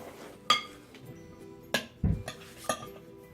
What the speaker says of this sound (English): Then you have to mix it well.